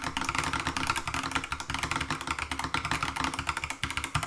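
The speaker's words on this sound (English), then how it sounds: "the Skyloong GK75 actually offers one of the more unique and satisfying typing experiences I've had so far" Rapid, steady clatter of keys on a Skyloong GK75 mechanical keyboard, dense continuous typing heard up close with no talking.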